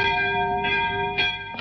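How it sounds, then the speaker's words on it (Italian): Church bells ring out clearly, several strikes with long humming overtones, close and loud, with no voices. "ascoltiamo l'antico, caro suono delle campane, in gloria del Signore"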